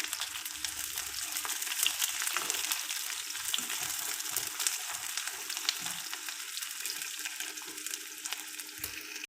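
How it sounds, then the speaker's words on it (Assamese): Chopped onions fry in oil for a traditional Assamese pork dish, making a continuous, fairly quiet crackling sizzle with occasional faint stirring bumps and no talk. "পিঁয়াজখিনি মই ভালদৰে অকণমান ৰঙচুৱা হোৱালৈকে মই ভাজিব দিছোঁ"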